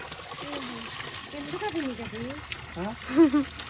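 Water from a waterfall at Malluru splashes and trickles steadily in the background while people talk over it.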